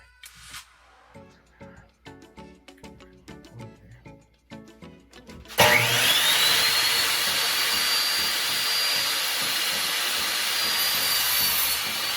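Wood is cut for a blanket ladder: a short burst of rhythmic rasping saw strokes gives way to a loud, steady whine of a power saw running continuously.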